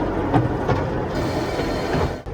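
A train rumbles past steadily and loudly at Lightwater Valley theme park, a dense continuous roar with faint clatter, no talk over it.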